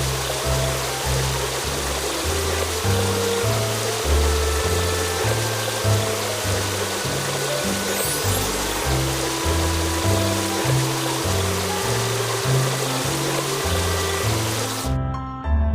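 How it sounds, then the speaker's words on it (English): Rinsing water washing foam off a car in a kids' car wash game, a continuous hissing spray running beneath cheerful background music for the whole stretch. "Now rinse off the foam."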